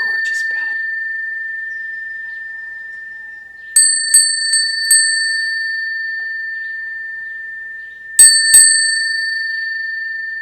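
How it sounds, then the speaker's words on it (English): A bell rings a single long, clear sustained tone that decays slowly, followed by a few quick light dings, then a brief double ding near the end, close and alone in a quiet room. "a gorgeous bell."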